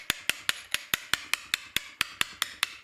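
A hammer strikes an 8mm chisel while numbers are carved into stone, giving about a dozen sharp, evenly spaced metallic taps at a brisk steady rhythm, close and with no other sound.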